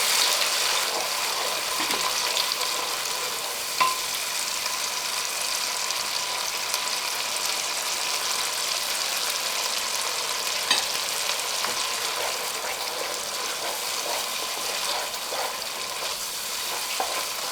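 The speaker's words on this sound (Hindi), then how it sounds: "ये देखिए मसाला भुन रहा है, तेल छोड़ रहा है चारों तरफ से।" Masala and onion paste, with dried coriander and ground white royal spices, fries in oil for a mutton shahi nargisi kofta gravy, giving a steady, close, even sizzle with faint crackles and no talking.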